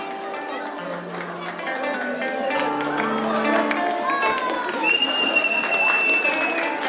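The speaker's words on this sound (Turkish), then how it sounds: "Alkışlarımız nerede?" Guests clap in applause at a Turkish wedding ceremony. The clapping is a steady crowd wash lasting several seconds, with voices and music-like tones mixed underneath.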